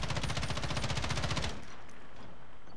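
Rapid automatic gunfire in Call of Duty: Modern Warfare multiplayer rattles in a fast, even burst for over a second, then stops, leaving a low background hiss.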